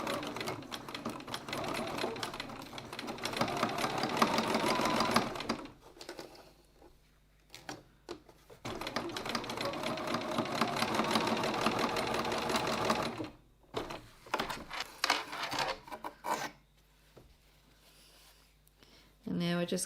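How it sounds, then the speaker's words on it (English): Sewing machine stitching across a wallet strap at a 2.4 stitch length with a standard foot, running in two long bursts separated by pauses with handling noise, close and steady. "now we're going to go across to the machine and stitch across there"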